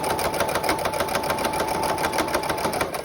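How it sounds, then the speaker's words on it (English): Sewing machine edge stitching close to the folded edge of fabric for a zipper bag, a steady, rapid mechanical whir with even needle pulses running continuously and fairly close throughout, with no talking. "we're gonna keep our needle in the same position, going from the same direction, and we're gonna be edge stitching"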